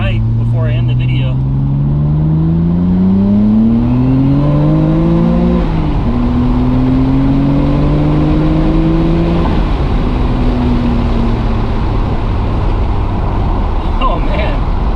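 A Nissan Skyline GTR with an RB26DETT engine and HKS Step 1 VCAM pulls hard on a freeway, its engine note climbing steadily through the gears with a brief dip at a shift, loud and close throughout over constant road noise.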